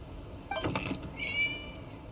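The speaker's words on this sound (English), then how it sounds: "It was just a cat." A cat in the video game Genshin Impact gives a short, close meow, with a faint tonal game sound lingering just after it over quiet background.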